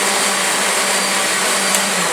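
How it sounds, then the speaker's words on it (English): A kitchen blender whirs steadily while blending a spoiled milk, onion and Tabasco smoothie, a loud, continuous high-pitched motor drone close by with no voices. "And we blend it up some more."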